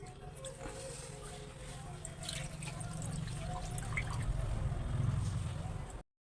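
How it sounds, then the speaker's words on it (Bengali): Basmati rice being washed by hand in water, with soft sloshing, dripping and gurgling through the whole stretch, fairly quiet and close, growing slightly fuller toward the end, with faint background noise. "তো চালটাকে ভালোভাবে আমি ওয়াশ করে নিচ্ছি যাতে ভিতরে থাকা নোংরাগুলো সব বেরিয়ে যায়।"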